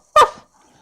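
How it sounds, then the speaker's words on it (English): A single short, sharp bark from a dog named Fido, close and clear, then quiet. "Fido barks"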